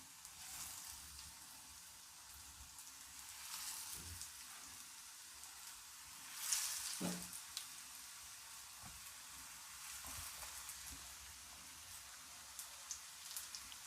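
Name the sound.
chickpea cutlets frying in a pan on medium flame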